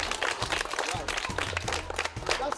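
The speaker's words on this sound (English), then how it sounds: "I think you should give yourselves a clap." A class of students claps for themselves in a short burst, fairly close, with distinct individual claps and a few voices mixed in.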